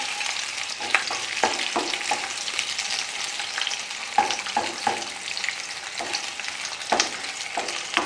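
Onion and bell pepper stir-fried over a high flame in a home kitchen for a Chinese chicken almond dish: a steady, close sizzle with scattered scraping stirs and small crackling pops throughout, no voices.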